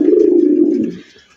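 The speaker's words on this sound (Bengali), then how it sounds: "কত খা লেভেলের ডাক।" A single close, loud, low coo comes from a fancy racer golla pigeon, a smooth sustained call lasting about a second that fades out, with no speech.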